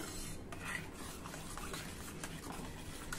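A spoon scrapes and swirls through coconut milk curry in a pot with the gas turned off, a steady close rubbing stir with soft clinks against the metal, continuous and unaccompanied by talk.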